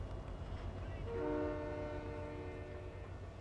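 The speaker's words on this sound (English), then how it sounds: "I haven't really gotten a chance to ride the train quite." A passing train in the video game Fortnite sounds its horn, a loud sustained tonal blast that rises over steady rumbling rail noise and then holds, with game ambience underneath.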